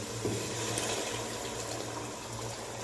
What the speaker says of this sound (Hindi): तो अभी वही पानी मैं इसमें ऐड करने जा रहा हूँ।